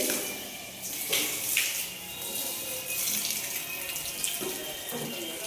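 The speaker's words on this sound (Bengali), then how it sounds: "এদিকে ঘরটা জল দেওয়া হচ্ছে।" Water is poured and splashed across newly laid floor tiles indoors, a continuous rushing, splattering flow with a few louder gushes, close by.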